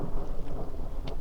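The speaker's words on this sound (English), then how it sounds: "It's raining." Rain falling during a trip in Denmark, a soft, continuous patter with a few brighter drops standing out, steady and fairly quiet throughout.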